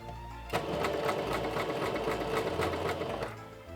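A sewing machine fitted with a special presser foot stitches fabric in one steady, fast mechanical chatter lasting a few seconds, close and fairly quiet, with no talk over it.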